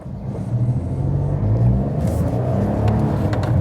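A 2024 Fiat Panda Hybrid pulls away from a traffic light, its engine rumbling low and steady as it accelerates, with another car running alongside.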